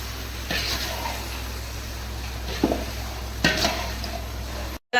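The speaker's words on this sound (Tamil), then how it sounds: "இப்போ ஒரு பெரட்டு பெரட்டி விட்டு கொஞ்சம் நேரம் விடலாம்" Six kilograms of chicken being stirred in a big pot for chicken kurma, giving soft scraping and wet shuffling strokes over a steady sizzle, with a few sharper clinks of the spoon against the pot.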